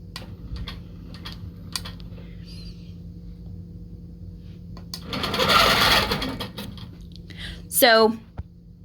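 A computerized quilting machine stitches a design for the bottom row of a quilt, its steady mechanical whir building into a louder burst midway, with brief clicks and a rising electronic beep near the end.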